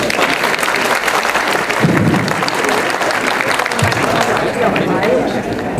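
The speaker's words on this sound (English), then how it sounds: "So give them a round of applause, please" Gala audience applauding the community board at a Houston police-community celebration and association installation ceremony, a dense, steady wash of clapping with crowd noise throughout, close and loud.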